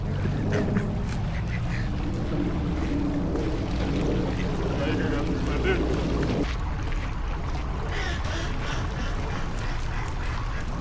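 Ducks quack among a busy waterside din at a park, with people talking and water splashing throughout.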